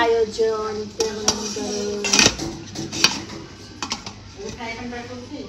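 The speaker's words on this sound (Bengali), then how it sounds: "তো এখন আমি ঢেকে দিব ঢাকনা দিয়ে" A pot of pitha is covered with a lid, giving a few close metallic clinks and knocks of lid against pot among lighter taps, with a voice speaking faintly in the background.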